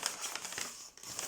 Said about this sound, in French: Alors on ouvre l'enveloppe.